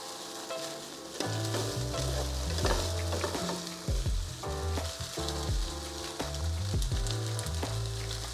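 Wide rice noodles for pad see ew stir-fry on high heat in a pan, with a strong, continuous sizzle and regular scraping tosses of a spatula close by.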